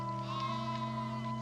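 Sheep bleat in a long, wavering, close cry during a dry year as shepherds drive the flock early to the wells.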